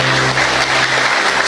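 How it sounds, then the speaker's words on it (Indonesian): Audience applause at a Christmas celebration gathering, a steady broadband wash of clapping held at even loudness throughout, with no voices standing out. "Tepuk tangan buat semuanya"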